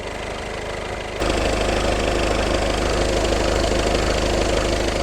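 A Volkswagen Golf 7 engine idles with an even mechanical drone and a faint whining roller underneath, the sound jumping louder and closer after the first second and then holding steady.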